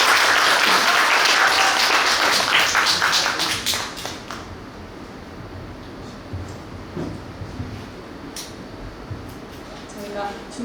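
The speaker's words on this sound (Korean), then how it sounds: "좀 씩씩하게 해준 우리 정혜리 대표님께 다시 한번 큰 박수 부탁드립니다." Loud, dense applause from a seminar audience for a speaker fills a hall for about three seconds, then dies away into quiet room murmur with a few faint taps and knocks.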